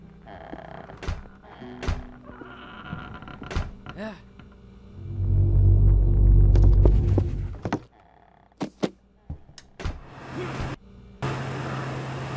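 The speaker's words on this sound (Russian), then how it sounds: "Запустив вентилятор" A large fan in the Hello Neighbor video game roars to life as a deep, loud rumble lasting a couple of seconds, framed by scattered thuds, clicks and footstep-like knocks in a game environment.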